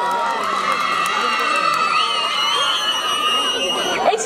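A festival show crowd at a jatra shouts and cheers loudly, with shrill voices and children's cries rising over dense chatter and a sustained tone through the din; no clear clapping stands out.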